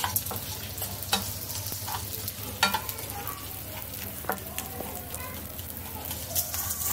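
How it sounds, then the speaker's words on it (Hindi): Puffing bits frying in two spoons of hot ghee, a constant close sizzle with occasional stirring clicks and faint background voices. "मैं दो चम्मच घी डाल दी हूँ, अब हम बोन करेंगे। तो बोन हम आधा आधा करके फ्राई करेंगे"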